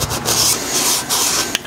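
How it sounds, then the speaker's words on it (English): A red Scotch-Brite pad scuffs across the surface of a Nissan RB26 engine block, producing a close, continuous dry rubbing hiss in short back-and-forth passes with a brief sharp scrape near the end. "I always like to go ahead and use a little bit of red Scotch-Brite. Just scuff the surface lightly"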